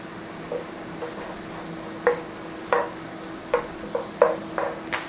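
Onions cook in a pan with a little salt under a low steady sizzle, while a utensil stirs them in about eight short, distinct scrapes spaced irregularly.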